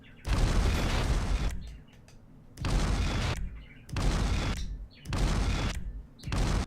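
Explosions in GTA V, staged in the Rockstar Editor, burst out one after another: five loud, booming blasts separated by short lulls of quieter rumble.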